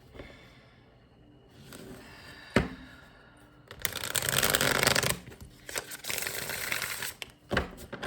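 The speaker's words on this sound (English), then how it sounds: "Let me shuffle this one more time" Tarot cards being shuffled by hand at close range: an initial click, then bursts of rapid riffling and slapping card noise in uneven waves, with no speech.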